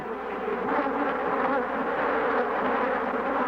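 A swarm of killer bees buzzes densely and steadily close around a beekeeper, a loud unbroken drone with no voices.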